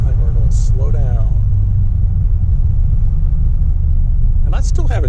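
A 1937 Packard 120 rolls slowly along in third gear, its engine a steady, deep rumble close by, while someone talks briefly over it.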